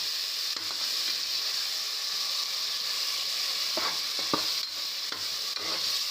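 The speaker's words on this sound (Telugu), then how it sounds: "ఇదైతే ఆయిల్ తేనే వరకు అయితే వేయించుకోవాలండి" Onions, tomato puree, and garlic-ginger paste frying in oil in a pan for chicken biryani, giving a steady close sizzle throughout with occasional stirring scrapes and clicks, no talking.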